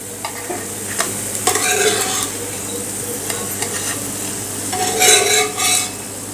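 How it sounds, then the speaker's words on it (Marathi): A school tiffin snack made from batter roasts crisp on both sides in a pan, giving a steady close sizzle and frying hiss with a few scraping stirs and utensil clinks. "तर आता आपण दुसऱ्या बाजूनीसुद्धा सुद्धा असंच खरपूस हे भाजून घेऊयात"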